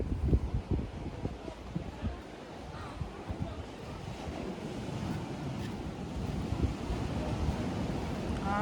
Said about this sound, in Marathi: भीती वाटते आवाज कसला येतो लाटांचा